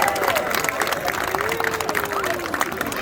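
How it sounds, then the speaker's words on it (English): An audience at a sea lion show in a West Midlands safari park cheers and claps, a loose crowd roar with scattered applause beneath a presenter's amplified voice. "Give him a cheer."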